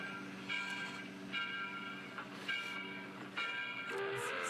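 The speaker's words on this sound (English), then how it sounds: "There's a train going by." A train passing close by, its steady rumbling roar broken by repeated sharp metallic squeals and whistle-like tones at regular intervals, with no voices.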